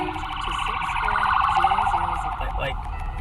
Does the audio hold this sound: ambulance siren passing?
yes